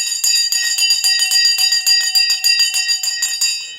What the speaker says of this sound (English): The bell is about to go any second now